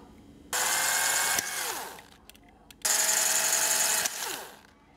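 An electric power drill bores two holes for wires in a small electrical circuit project, with two loud, steady whining bursts of about a second each separated by a short pause, close and alone with no talk.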